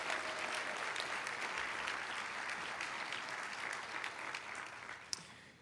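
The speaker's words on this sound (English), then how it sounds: "I hope we can give a round of applause for all the educators who are here today" Steady applause from a convention audience fills the whole stretch, dense and even, tapering slightly toward the end.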